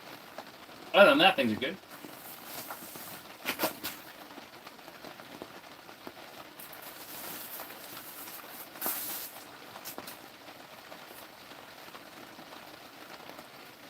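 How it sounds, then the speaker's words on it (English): Rain patters steadily on an ice fishing shelter, a constant soft hiss running throughout while someone talks briefly near the start and a few louder knocks and rustles break through. "But I really want this rain to stop."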